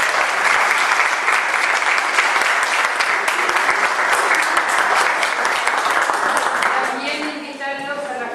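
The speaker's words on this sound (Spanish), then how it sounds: "Le damos otro aplauso al Padre." A church audience gives the priest a round of applause, many hands clapping loudly and steadily for about seven seconds before fading, with a voice starting to speak as it dies down.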